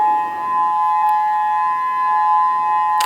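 A monthly practice civil defense siren sounds as a steady, sustained tone held throughout, moderately loud and constant, with faint background noise and no talking.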